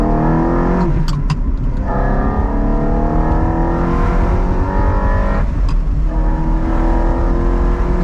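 A car engine revs hard through a downshift for a pass on a California highway drive, its rising, climbing whine loud and continuous with a brief gear-change dip, no voices.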